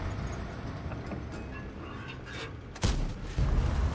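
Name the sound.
tank gun firing in World of Tanks video game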